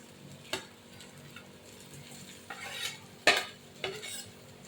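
A spatula stirs taro and potato with chili and shrimp in a pan, giving a few sharp scraping knocks against the metal over a faint sizzle, with quiet gaps between the strokes.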